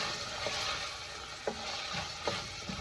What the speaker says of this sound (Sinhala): හොඳට මේක හැඳි ගන්නවා.